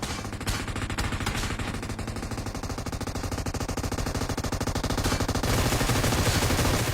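An M249 machine gun firing in the PUBG Mobile video game: a long, continuous stream of rapid automatic shots, loud and relentless for the whole stretch.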